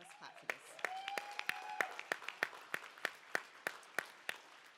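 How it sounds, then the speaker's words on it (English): A few people clap at a conference plenary, faint, evenly spaced single claps in a quick steady rhythm for several seconds, with a voice speaking over them. "Let's clap for this."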